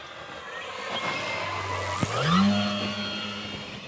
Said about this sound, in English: Sounds like that prop is a little bit less balanced as it is